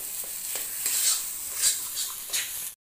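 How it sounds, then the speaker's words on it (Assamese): Spices such as coriander and meat and vegetable masala being stir-fried in a pan for a fish curry, a steady close sizzle broken by repeated scraping spatula strokes, with no talk. "অলপ সময় ভাজিব লাগিব।"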